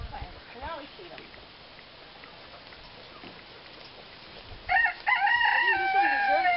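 A rooster being chased around a farmyard near a truck lets out a loud, close crow near the end, after a stretch of quieter outdoor noise with faint, scattered calls.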